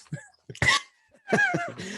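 A few short coughs mixed with breathy laughter, close up, in quick uneven bursts.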